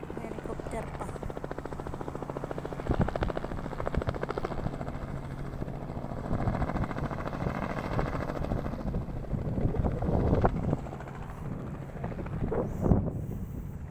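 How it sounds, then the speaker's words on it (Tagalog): A helicopter passes over a beach at Lingayen, a continuous rotor drone with rhythmic chopping, mixed with wind buffeting the microphone and some distant voices, moderately loud throughout. "Helicopter pa."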